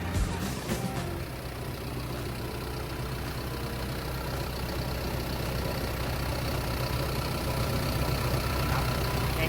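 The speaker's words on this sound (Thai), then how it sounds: "เสียงเครื่องกา รทำงานของตัวเครื่องของเขาเนี่ยก็ทำงานได้แน่นดีปกติเลย" A Caterpillar 312D 12-ton excavator with a 4-cylinder turbo C4.2 diesel runs at steady idle nearby, a continuous even rumble with faint background noise and no voices.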